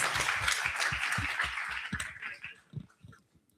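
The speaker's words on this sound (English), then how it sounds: "Round of applause" Audience applause breaks out at a UN youth engagement event right after a speaker finishes, a dense wash of clapping and cheering that holds for a couple of seconds and then thins out into a few scattered claps.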